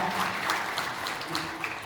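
Delegates at a general assembly meeting applaud in approval of a wildfire relief donation, a steady spell of moderate clapping from a room full of people.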